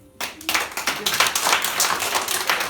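Students in a government school clap for the group announced as competition winners, a quick burst of many hands that starts abruptly and keeps going at an even, busy pace without any voices over it.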